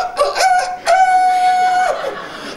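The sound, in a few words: rooster crowing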